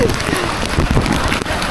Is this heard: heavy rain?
yes